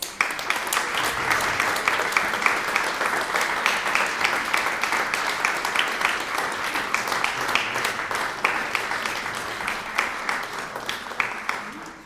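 An audience at a prize concert applauds the event's fundraiser with sustained, even clapping that carries at full strength for about twelve seconds, a dense crowd sound without letup.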